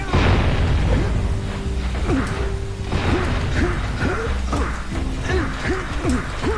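Bomb explosions in the Jak and Daxter video game at Sentinel Beach, a series of booming blasts and bursts repeating over loud game audio, with brief whooshing sounds between them.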